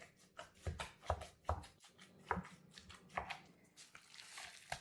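Raw ground beef meatloaf mixture is worked by hand in a bowl, giving soft, wet squelches and squishes in an irregular rhythm, close but faint.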